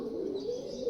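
Pigeons, two pairs of carrier birds, coo in a steady low murmur close by, the soft throaty calls running continuously through the second with no talk over them.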